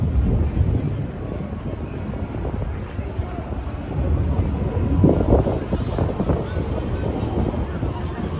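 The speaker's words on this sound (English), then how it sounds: "Cold and windy." Strong cold wind buffets the microphone in a constant loud, low rumble with gusts swelling and easing throughout, on a downtown street in Nashville, Tennessee.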